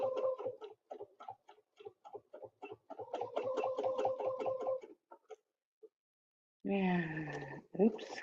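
A sewing machine doing free-motion quilting stitches in fast, even bursts of rapid ticking, pausing briefly between runs, then someone speaks after it stops.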